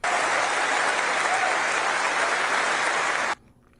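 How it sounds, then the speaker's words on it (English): Studio audience clapping at a political discussion show, a dense, loud burst of many hands that cuts off abruptly after a few seconds into near quiet. "let's not hear any more clapping"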